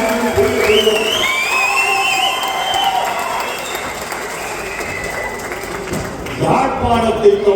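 A crowd in Jaffna cheers, whistles and claps for a speaker, a dense roar of applause and whistling that fades slightly mid-way and swells again near the end, with a voice speaking over it.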